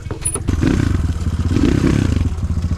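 A motorcycle with a ZS 172FMM engine swapped to a 77 mm big-bore kit climbs a hill, its engine droning loud and close with a steady, throbbing, low-pitched labour and some rattling clatter throughout.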